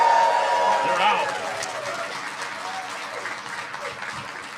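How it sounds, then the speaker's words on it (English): An audience applauds for a culinary team at an amusement park anniversary announcement, starting loud and full and gradually thinning to scattered clapping with crowd murmur. "Let's give Chris and the entire culinary team a huge round of applause."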